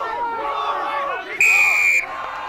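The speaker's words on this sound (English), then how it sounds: "The home side applaud their efforts" Home supporters at a rugby match roar and call out in a steady, continuous crowd noise, with a sharp whistle blast rising over it briefly toward the end.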